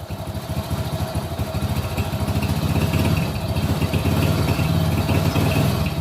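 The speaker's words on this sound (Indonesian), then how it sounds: "Jadi kita coba naikkan RPM-nya secara perlahan." A Honda Win motorcycle engine, upgraded from 6-volt to 12-volt electrics, idles with a steady pulsing putter and gradually rises in pitch and loudness as the revs climb slowly, heard close with no talk.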